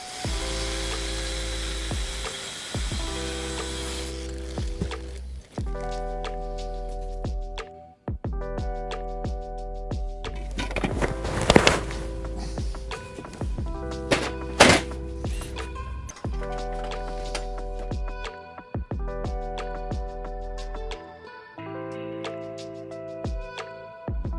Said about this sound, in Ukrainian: прорізали такий отвір для кабелю, щоб затягнути кабель